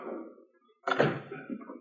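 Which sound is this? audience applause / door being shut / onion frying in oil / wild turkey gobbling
door being shut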